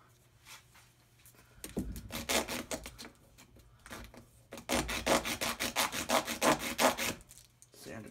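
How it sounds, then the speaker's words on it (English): A broken-off wooden mixing stick being sanded smooth at a model-airplane workbench, two bursts of close, rhythmic back-and-forth rasping strokes separated by a brief pause, with no voices. "Sand it down, make sure there's no chunks that are going to come off it."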